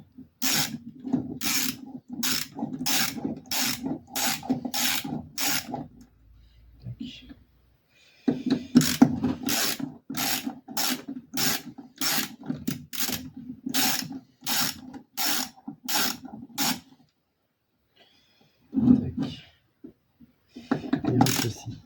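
Socket ratchet wrench clicking in repeated bursts while a BB V engine is taken apart, sharp rapid pawl ticks in several runs separated by short pauses, close and clear.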